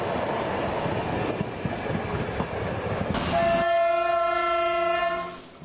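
A passenger train out of Edirne bound for Istanbul Halkalı rumbles along the rails, then its horn blares in a long, loud, steady blast that fades at the end.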